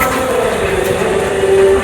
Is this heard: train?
yes